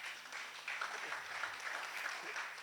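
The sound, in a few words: audience applause at an event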